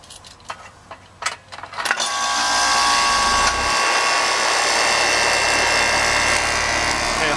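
A 4-ton heat pump's compressor starts up: a few scattered clicks, then a loud steady hum and broadband rush kick in about two seconds in and run without pause.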